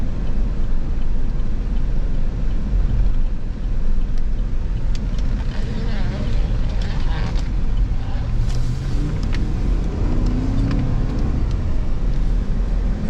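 A black 2016 Chevy Tahoe police 4x4 with push bar and search lights drives steadily, its engine a continuous low rumble with road noise as it swings through a U-turn, the tone shifting slightly late in the turn.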